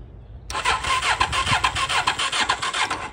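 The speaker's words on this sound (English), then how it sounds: "We got another bike running." A bobber project motorcycle engine cranks after quiet, catches almost at once and runs roughly, its loud, close exhaust pulsing in an uneven rhythm of repeated surges for the rest of the moment.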